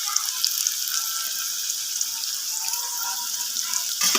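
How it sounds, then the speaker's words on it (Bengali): Chopped onion added to potatoes already fried in a pan for a pumpkin and prawn dish gives a steady, close sizzle throughout, with faint clinks and no talk until a brief louder burst at the end. "এবার আমি এর মধ্যে কুচিয়ে রাখা পেঁয়াজটা দিয়ে দিচ্ছি"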